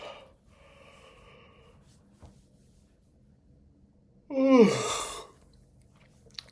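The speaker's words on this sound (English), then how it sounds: "Damn, I'm out of breath." A person out of breath gives a single loud, heavy breath with a snort-like gasp near the middle of an otherwise quiet stretch.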